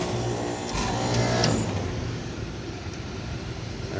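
A two-stage Carrier packaged air conditioning unit with a newly replaced contactor runs its compressor on stage 2, a steady mechanical drone that swells briefly midway and then settles, with no talking.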